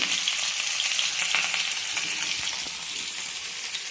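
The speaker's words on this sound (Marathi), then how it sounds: "रव्यामध्ये असं छान आणि चालू फ्राय करून घ्यायचं आपल्याला तर दोन दोन पीस टाकते मी" Murrel fish pieces coated in semolina fry in a pan with a steady, close, hissing sizzle that fills the whole clip without talk.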